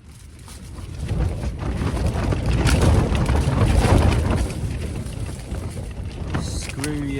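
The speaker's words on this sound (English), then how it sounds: "You can probably hear the wind throwing the tent around." Strong wind buffets a tent on a freezing winter mountain, a loud rushing roar that swells and flaps around the shelter, building to a peak mid-way then easing slightly while still gusting.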